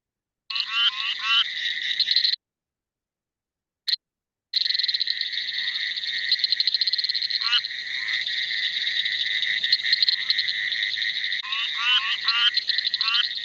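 A frog with a bilobate vocal sac calls in a continuous, buzzing, rapidly pulsed chorus, close and clear, with a couple of seconds of silence and a short blip before the calling resumes and runs on steadily.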